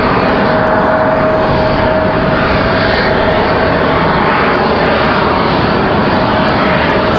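A fixed-wing airplane passes at Raleigh-Durham International Airport on a windy day, its engine roar loud, steady and close throughout, with a faint tone running underneath.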